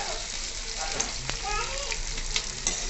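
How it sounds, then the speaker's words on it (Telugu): Chopped onions shallow-fry for a chicken gravy in an oiled pan, giving a steady, close sizzle. Light stirring clicks and scrapes come through over a continuous frying hiss. "ఆనియన్స్ అనేది కొంచెం షాలో ఫ్రై అయ్యి బ్రౌన్ కలర్లో వచ్చే అంతవరకు ఫ్రై చేసుకోవాలండి"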